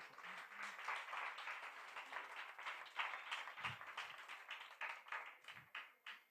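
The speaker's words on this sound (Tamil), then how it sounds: "அதுக்கு ஒரு பெரிய கைத்தட்டல்" An audience at a Sri Sathya Sai 97th birthday gathering in a Chennai hall breaks into sustained applause, a dense, even patter of many hands that rolls on throughout and thins toward the end, heard at moderate distance.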